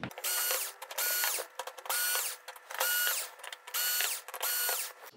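Screws are backed out of an LG OLED77C9PUB television chassis with a ratcheting driver, giving quiet repeated bursts of clicking and whirring separated by short pauses.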